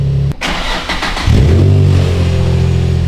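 A worn Nissan 350Z sitting in gear without moving, cranking with a click and catching into a steady droning rev that holds loud and close for a couple of seconds.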